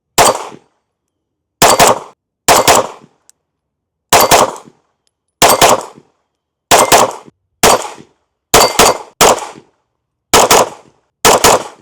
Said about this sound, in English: I'll roll in some footage of taking a few shots with this gun to let you guys see how it shoots